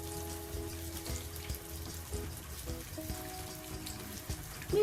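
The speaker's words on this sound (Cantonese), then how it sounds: "炸緊個獅子頭嘅時候咧" Lion's head meatballs with salted egg yolk deep-fry in hot oil, giving a continuous close crackle and bubbling patter with a faint steady hum underneath; nobody speaks.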